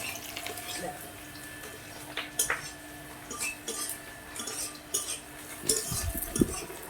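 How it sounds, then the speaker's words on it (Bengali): Onions being stirred in a cooking pot in a home kitchen, with soft scraping and clinking of a utensil against the metal pot, quiet and intermittent, over low background noise and some voices. "আমাকে বললো একটু পেঁয়াজটা নেড়ে দেওয়ার জন্য"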